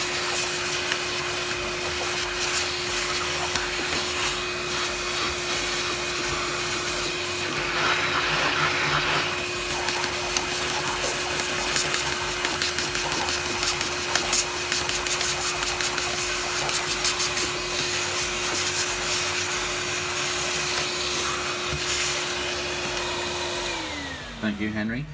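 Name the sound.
Henry cordless vacuum cleaner on full power cleaning Dyson V10 filter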